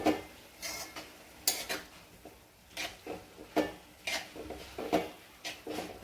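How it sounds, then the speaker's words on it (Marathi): Onion greens and moong dal being stirred in a pan with tempering and turmeric, heard as a series of clear metallic scrapes and clinks from a spoon against the pan, irregular and close, with no talking. "तर आता हे छान फोडणीमध्ये मिक्स करून घ्यायची कांद्याची पात आणि मुगाची डाळ"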